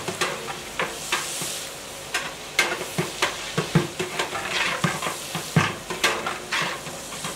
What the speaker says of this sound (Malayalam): എണ്ണ ചൂടായാൽ മുറിച്ചു വെച്ച വലിയുള്ളി ഇട്ട് വഴറ്റുന്നു